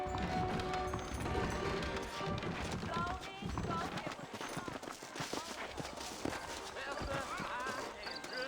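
Horses clip-clop along in Red Dead Redemption, a steady trot of hooves under continuous talk and background game sound.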